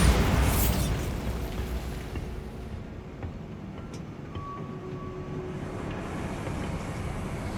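A Bombarda spell blast in Hogwarts Legacy opens with a loud boom that decays into a long, rumbling rolling tail, with faint tonal effects lingering beneath.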